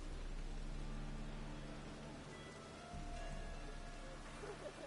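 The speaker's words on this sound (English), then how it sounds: "Looks like rain." Steady rain falls in The Witcher video game, a continuous even wash of drops with a low ambient hum beneath it, holding at the same level throughout with no voices.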